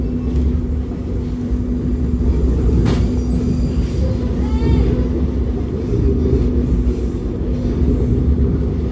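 KA Harina passenger train runs onward just past the Sasak Saat tunnel, a steady rumbling rail roar with a constant hum and occasional squeals and clatter, heard from on board.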